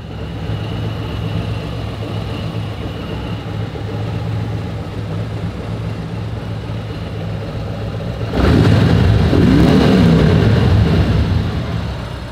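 A 2018 Harley-Davidson Road King motorcycle engine idles with a steady, deep rumble, then revs sharply near the end into a louder, rougher roar that holds before easing slightly; no talk.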